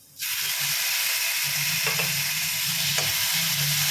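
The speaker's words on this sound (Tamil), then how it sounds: "பொடியாக அரிஞ்ச வெங்காயம் கொஞ்சம் நேரம் வதக்கினா போதும்" Finely chopped onion hits a hot pan and bursts into a loud, steady sizzle that holds throughout, with a couple of brief stirring clinks and a low hum beneath, no voices.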